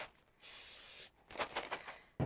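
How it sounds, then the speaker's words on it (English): Vegetable oil is sprayed onto popcorn in a bag, a steady close hiss lasting about half a second, followed by soft rustling of the bag and a final sharp crinkle. "You spray your popcorn in a bag with vegetable spray."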